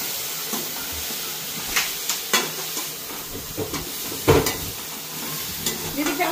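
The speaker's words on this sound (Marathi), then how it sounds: "आपण ठेवलेला जो कांदो होतो तो आईन आता याच्यात तेल टाकून त्याच्यात परतवून घेता" Onion sizzles and is stirred in hot oil in a pan for a Malvani-style mutton dish, with scattered scraping and clinking of the spoon over a steady frying hiss, close by.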